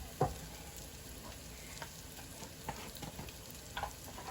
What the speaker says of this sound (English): we're gonna saute these until they're nice and browned